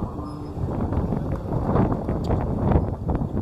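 Strong wind buffets an outdoor spot, gusting and rumbling in uneven surges at moderate loudness, with faint clip-clop and rustling in the background.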